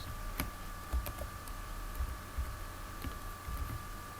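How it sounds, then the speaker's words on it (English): Quiet, close keystrokes tap out a website address on a computer keyboard, a few soft irregular clicks over a steady background hum. "Then we type our URL, website address,"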